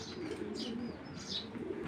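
Racing pigeons, breeding pairs, coo softly in a loft, with a couple of brief higher chirps over a steady low murmur of birds close by.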